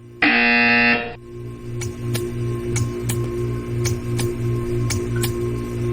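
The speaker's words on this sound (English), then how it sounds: "You will hear a buzzer." A loud, harsh electronic buzzer from a Portal 2 mod game sounds once for about a second, then gives way to a steady low hum with faint regular ticks.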